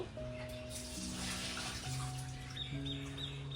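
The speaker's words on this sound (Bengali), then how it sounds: "মাশরুমগুলোকে ধুয়ে কেটে নিচ্ছি।" Mushrooms are washed under a running tap, making a continuous hiss of flowing water with steady tonal whines from the faucet, close and fairly loud, with faint bird calls behind.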